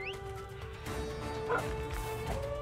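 A dog companion barking in the monster-taming game Monster Hunter Stories 2, a couple of short yips over steady game music and background effects.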